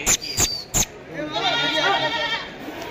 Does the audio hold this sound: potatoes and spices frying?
no